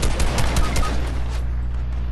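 Rapid machine gun fire in the aerial combat game Wings of Valor rattles loudly in a quick stream of shots for about a second and a half, then fades into a low engine rumble.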